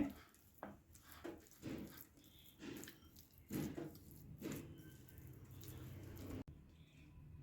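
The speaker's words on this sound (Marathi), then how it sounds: "आता हे छान आपण मिक्स करून घेऊया" Mint chutney being stirred with lemon juice and sugar, giving soft wet squelching and a few light spoon taps against the bowl in irregular bursts, close and fairly quiet.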